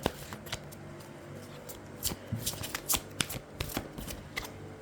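Tarot cards being shuffled by hand, a series of quick riffling and flicking bursts that come in irregular clusters, close and fairly quiet, with no voices.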